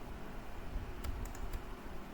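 A computer mouse is right-clicked while designing a dedication invitation: a few quick, soft clicks close together over a steady low room hum.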